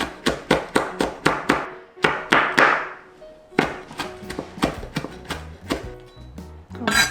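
Green chili pepper being minced with a knife on a cutting board, rapid close rhythmic chopping in quick bursts with short pauses, loud and clear with no talking.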